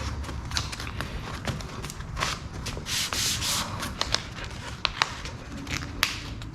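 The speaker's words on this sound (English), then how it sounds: "So let me get some water down here. We'll get the sanding." Steady wet rubbing and scraping of sandpaper on the paint of a 1963 Chevrolet Bel Air, continuous strokes with occasional sharp clicks, close by.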